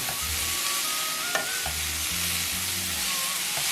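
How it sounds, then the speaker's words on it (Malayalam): Beetroot upperi stir-fry cooking in a pan, a continuous close sizzle of oil with intermittent scraping and tapping as a spoon stirs, no talking. "ഉപ്പ് ചേർത്തതിന് ശേഷം ഇനി നന്നായിട്ടൊന്ന് ഇളക്കി വേവുന്നത് വരെ ഇനി ഇളക്കിയെടുക്കുകയാണ് ചെയ്യേണ്ടത്"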